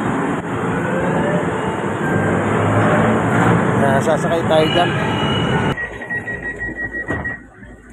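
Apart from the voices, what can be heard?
LRT light rail train arriving at station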